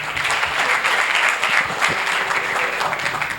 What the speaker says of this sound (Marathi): जोरात टाळ्या झाल्या पाहिजेत